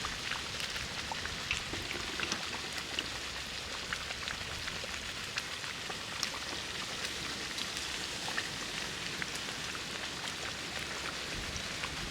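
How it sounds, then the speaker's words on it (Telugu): Fish curry (pulusu) made with korameenu fish bubbling steadily as it simmers in a pot, a dense continuous hiss of fine crackles and pops with no talk. "పులుసు అయితే గుడుగుడు అంటుంది, మంచి ఉడికింది"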